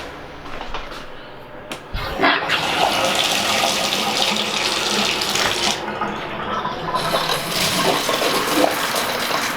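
Hot water gushes steadily from a faucet into a bathtub in a house under construction, a loud, continuous splashing rush that starts after a brief sputter and holds for several seconds.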